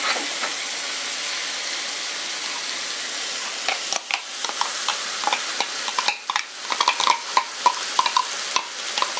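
Tomato puree sizzling and frying in a pan with onions for an aubergine and potato curry, a steady close hiss broken after a few seconds by sharp stirring scrapes and crackles.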